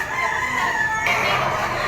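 A yellow-legged malatuba banderado bullstag gives a loud, close crow that holds a drawn-out note and then shifts upward midway, with no talk over it.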